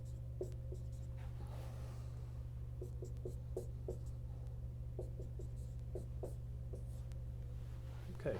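Marker or chalk strokes on a board while math is written, a run of short scratchy taps and squeaks in uneven bursts over a steady low hum, with no talking.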